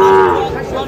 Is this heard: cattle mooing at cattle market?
yes